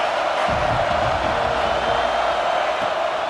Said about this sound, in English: This crowd still bringing the intensity to open the 2nd half.